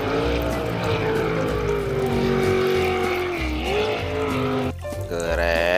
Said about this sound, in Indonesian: Yang ini kapal speedboat.